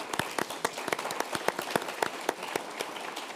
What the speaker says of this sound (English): Join me in a round of applause for Aspen's native son.